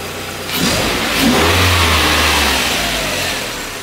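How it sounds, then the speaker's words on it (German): A VW Passat B5 engine running and then revving: the idle rises into a strong mid-pitched rev that holds for about a second and a half before settling back, close and loud with no talk. "Motor läuft wirklich astrein."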